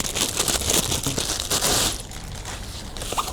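Plastic packaging around a new Toshi Sling 5L bag crinkles and tears loudly and close up, a dense continuous rustle that eases into softer handling noise after a couple of seconds, with no talking.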